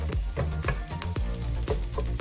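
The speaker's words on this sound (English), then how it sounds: "My fire is on high right now because I'm mixing it well." Congee (arroz caldo) ingredients stirred in a pan over high heat, with a steady sizzle and rhythmic spatula scrapes roughly every half second, close and fairly loud.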